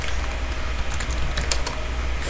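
Rapid close clicking of keys on a computer keyboard while a search phrase is typed, a quick uneven run of light taps over a low background hum.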